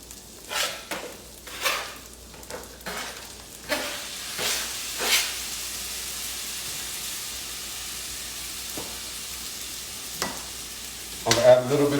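Chopped tomatoes going into red lentils cooking in a pot: a few soft wet plops and stirring scrapes over a low simmering hiss, then a brief clatter at the end, no voices.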